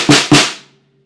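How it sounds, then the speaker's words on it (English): Two sharp, close snare drum hits on an older snare fitted with toppers, each with a bright crack and short buzzy decay that rings out into a faint low tone. "So here's how the snare drum sounds right now."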